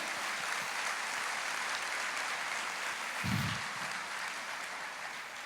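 A church congregation applauds during a sermon, a steady wash of clapping heard faint and distant throughout, with one brief low thump partway through.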